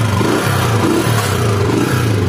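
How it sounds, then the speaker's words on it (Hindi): A freshly serviced motorcycle engine, just started after an oil change, runs steadily at close range with a loud, continuous rumble and slight uneven pulsing. "मोटरसाइकिल जो हमारा ऑयल वगैरह डल गया उसमें और स्टार्ट कर दिया, साउंड भी बिल्कुल सही है"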